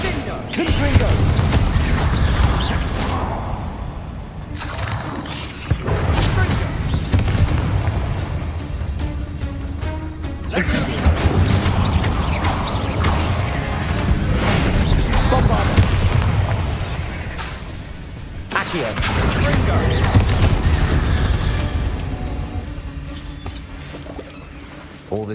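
Repeated heavy blasts from the Confringo spell in the Hogwarts Legacy video game boom in several long, loud waves with rumbling tails, separated by brief lulls, with game sounds and voices mixed in.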